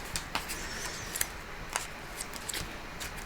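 A deck of cards is shuffled close by, producing a series of quick, crisp riffling snaps and flicks spaced irregularly over a quiet background.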